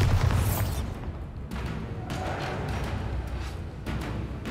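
Bombarda spell blast in the video game Hogwarts Legacy, a deep booming burst at the start that rumbles on beneath a dense, steady game soundscape with a few sharper crackles.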